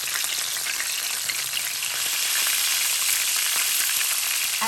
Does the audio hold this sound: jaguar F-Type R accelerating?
no